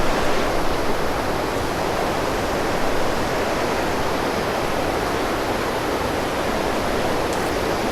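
The Monday waterfall near Presidente Franco roars as a steady, dense rush of falling water, loud and continuous with no pauses.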